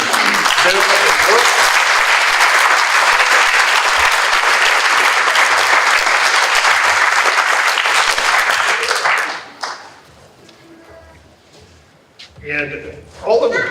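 Loud, dense applause from a graduation ceremony crowd for a graduate, sustained for about nine seconds before cutting off abruptly, followed by quiet room tone and a brief burst of movement near the end.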